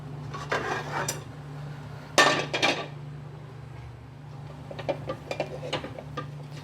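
Metal pans clatter and clink as they are lifted and set down on a home stovetop during curry preparation, a few sharp knocks standing out over a steady low hum.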